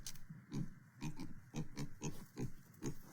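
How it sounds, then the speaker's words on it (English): A pig on a farm in Aiken, South Carolina grunts repeatedly in a steady rhythm of low, short snorts, close by, with no talking. "Yeah, Piggy's definitely ready for dinner"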